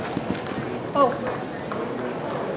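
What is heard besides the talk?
horse hooves clip-clopping, Hackney pony show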